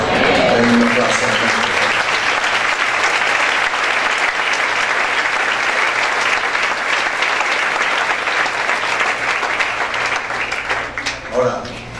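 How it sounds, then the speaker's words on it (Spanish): A church congregation claps and cheers in sustained, loud applause that fills the room for several seconds before tapering off near the end. "Denme un aplauso."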